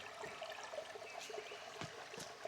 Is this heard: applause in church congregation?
no